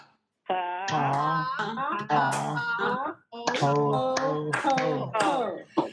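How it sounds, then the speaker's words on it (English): A group claps in rhythm during a laughter yoga session, the claps landing with loud chanted 'ha ha ho ho' laughter voices that carry over nearly the whole stretch. "So the way that we clap in laughter yoga is finger to finger and palm to palm"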